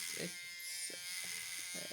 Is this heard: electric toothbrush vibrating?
yes